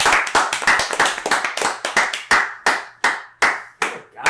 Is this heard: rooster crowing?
no